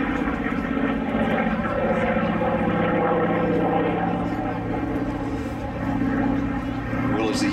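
A Grumman propeller fighter flies past at the Flying Legends airshow, its piston engine a loud, steady droning roar that holds throughout while an announcer talks over it.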